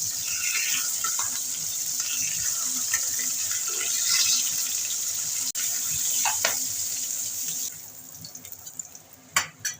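Rohu fish fries in oil with a continuous close sizzle that fades near the end, followed by a few light clinks and taps.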